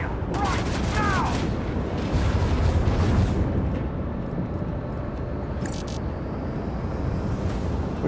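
Macro cannon volley in the space combat of Warhammer 40000: Rogue Trader, a rapid string of loud booming shots with whooshing projectiles in the first few seconds, then rumbling impacts and scattered bursts under a continuous low drone.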